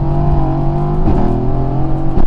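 A 690 hp Mercedes-AMG GT engine hums loud and close from inside the car, a deep steady drone whose pitch shifts upward about midway as the throttle is blipped.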